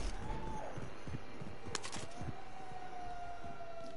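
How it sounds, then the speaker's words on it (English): Sirens in a shooter video game wail faintly in the distance, a rising and falling tone drifting under scattered thumps and game noises. "You hear the sirens?"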